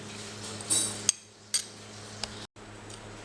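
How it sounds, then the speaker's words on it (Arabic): Spoon clinks and scrapes in a bowl as turmeric, salt, paprika and ground thyme are stirred together for homemade fried chicken coating, a few close metallic taps and short rattling bursts over a steady low hum. "هنخلط كل المكونات دي"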